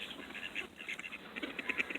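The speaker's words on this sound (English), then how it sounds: "Hey, duck. Look at that." Several ducks quack in a loose, uneven series outdoors, moderately near, with no talking over them.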